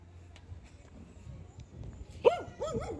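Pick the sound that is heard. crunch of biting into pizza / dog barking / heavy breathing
dog barking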